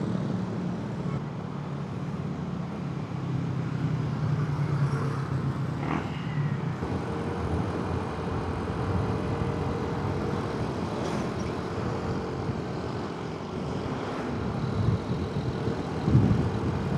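Busy road traffic with many cars on a street near Antipolo, heard as a continuous engine rumble and tire noise from passing vehicles, with occasional louder passes and faint talk inside.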